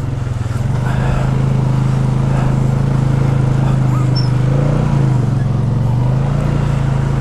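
An off-road vehicle drives through a creek, its engine a loud, steady drone that holds for the whole stretch, rising and falling only slightly.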